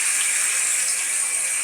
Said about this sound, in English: And I'm about to pour cold water on them.